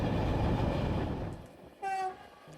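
A 40-year-old Bulgarian express train rumbles along loudly and then fades, before a short, bright blast of its horn sounds once.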